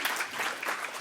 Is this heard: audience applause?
yes